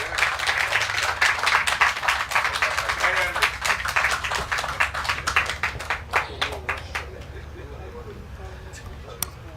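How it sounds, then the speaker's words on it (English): Clapping from a crowd at an official commissioning ceremony for a local road connector and roundabout, loud and dense at first, then thinning into scattered individual claps that trail away near the end. "Another round of applause for Mr. Trevor James, Assemblyman"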